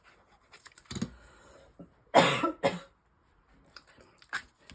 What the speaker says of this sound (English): I've had this cough all week and it won't go away.